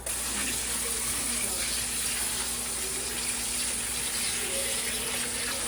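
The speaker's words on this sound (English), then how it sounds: "We're going to rinse the salt off of it." Water from a tap runs into a sink as salted cabbage is rinsed, a steady, loud, unbroken gush that lasts the whole stretch with no talking.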